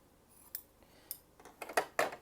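Scissors snipping through paper-pieced fabric for a quilted sock project, a handful of crisp close cuts that start sparse and quicken into a quick cluster of snips near the end, no voices.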